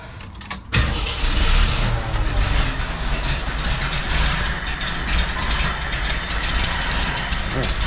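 A Jeep CJ7 engine runs after a carburetor swap, starting with a brief crank, then settling into a loud, steady, rough idle that carries on without a break, with no talk over it.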